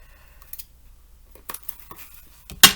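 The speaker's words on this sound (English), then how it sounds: "Let's grab my tape scissors" Sticky tape scissors snip at a card-making desk in a few sharp, close cuts: two quiet snips early on, then a louder crisp cut at the end, with a quiet room between.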